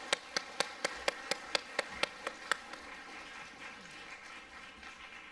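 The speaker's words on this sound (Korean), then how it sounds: "우리 다시 한번 하나님께 또 졸업자들에게 박수 보내드리겠습니다." An audience at a seminary graduation ceremony applauds the graduates. About ten evenly spaced, crisp hand claps ring out near the microphone, then the clapping fades into a soft room murmur.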